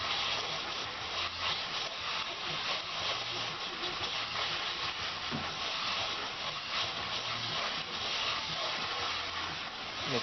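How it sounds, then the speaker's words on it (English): Water sprays steadily to rinse soap off a car headlight, a loud, continuous close hiss that never breaks. "Rinse it off here."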